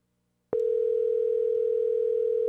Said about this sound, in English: I'm going to make a quick call here.